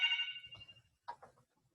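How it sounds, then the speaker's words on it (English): A telephone rings once, a bright electronic ringtone that is fairly faint and quickly fades, followed by a few soft sounds in a quiet room. "I'm sorry, the phone is distracting me"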